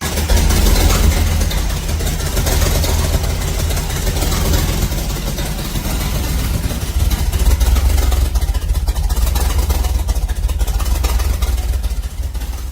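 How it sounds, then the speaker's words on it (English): A Chevy Nova's 307 V8 runs loud and steady at idle with freshly fitted mufflers, a constant rough low rumble throughout with slight swells in engine speed. "this is our second fire up of the Nova with the 307"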